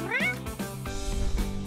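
A cat gives a loud, rising meow close up, followed by further drawn-out, wavering cat cries.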